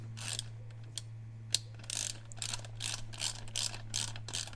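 Ratcheting clicks from a socket wrench tightening the bolts that hold a winch to its mount plate on a Jeep differential mount, in irregular close bursts over a steady electrical hum.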